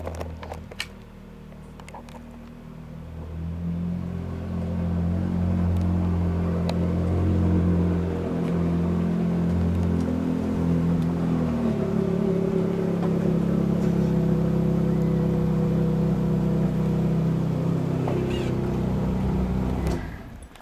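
The V8 of a yellow 2015 Ferrari 458 Speciale A fires up with a sharp starter burst, then settles into a loud, close idle with rising and falling revs that hold steady for a long stretch, without talking.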